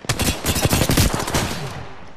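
Rapid automatic gunfire in Apex Legends, a loud close burst of repeated shots in quick rhythm that tails off into a short fading echo.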